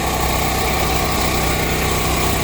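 Generator running to power a wire-feed welder outdoors, a loud, steady engine drone with constant vibration and no change in pitch, close by with no voices.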